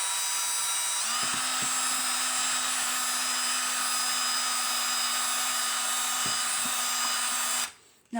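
An old battery-powered drill with a paddle mixes wall paint in a steady, loud high whine that runs continuously for about seven seconds, with a couple of brief speed dips, then cuts off abruptly.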